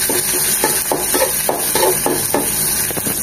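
Small chopped shrimp, coated with salt and turmeric, fry with garlic in a pan, giving a steady bright sizzle broken by a regular scraping stir, close and loud with no talking.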